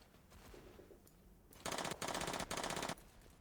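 Rapid automatic fire from a PPSh submachine gun in the World War II video game The Patriotic War, three loud sustained bursts close up after a quieter stretch of background battle noise.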